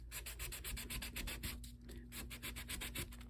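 Steady rhythmic rubbing of an abrasive over the shiny face of an old plastic gift card, a dry, quiet scratching stroke repeated back and forth at a quick, even pace with no talk.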